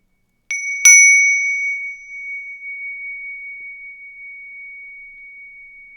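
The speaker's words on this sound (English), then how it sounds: "And I'm sealing it with this bell" A single bell is struck once to close a guided meditation, giving a clear bright strike followed by a long, steady ringing tone that slowly fades over several seconds, with no voices.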